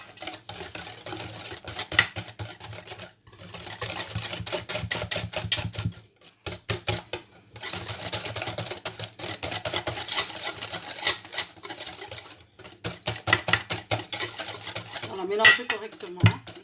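Rice muffin batter, with eggs just added, being whisked briskly in a bowl, a fast, continuous rattle of utensil against the bowl in long bursts broken by short pauses, close and fairly loud.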